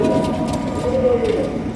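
A golden pigeon gives a soft, low, rolling coo close by, drawn out over a couple of seconds against a faint background hum.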